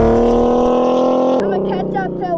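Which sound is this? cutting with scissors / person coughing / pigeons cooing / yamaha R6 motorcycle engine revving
yamaha R6 motorcycle engine revving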